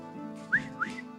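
A person whistles two short rising notes in quick succession, close and clear over a low droning background.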